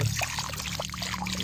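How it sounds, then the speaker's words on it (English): Water drains steadily through a sieve as azolla is scooped from a pond for feeding chicken layers, a continuous close trickle and splash without speech. "Just sieve it so that we can leave the water inside the pod."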